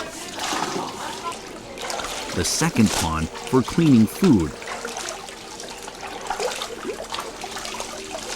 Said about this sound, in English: Flowing spring water runs from the slightly higher first pond down to the second and third ponds.